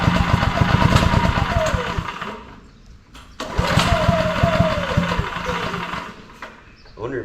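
A small, cheap gas-powered welder generator engine chugs in a rapid, rough rhythm, dies down briefly partway through, then picks back up and keeps running loudly.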